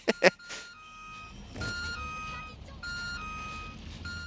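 Repeated electronic beeping from a double-decker bus reversing in the video game Watch Dogs: Legion, steady tones sounding over engine rumble after a couple of sharp thumps at the start.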